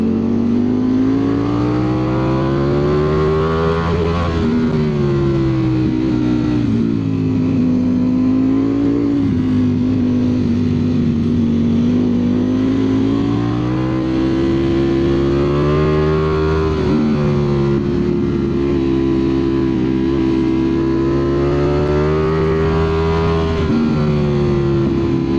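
Ducati Streetfighter V4S motorcycle engine pulling hard on a mountain road, a loud, continuous onboard drone rising and falling with throttle through the rev range, no talk.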